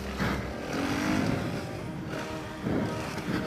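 A 2018 Suzuki RM-Z 450 motocross bike hitting a jump on a track, a steady droning engine note that rises and dips with the throttle, heard from a moderate distance.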